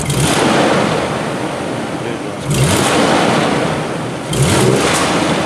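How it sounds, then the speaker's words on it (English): A 2000 Nissan Xterra engine revs in loud surges from throttle snaps, rising sharply around the middle and again near the end over a steady running drone, with no talking. "we snap the throttle"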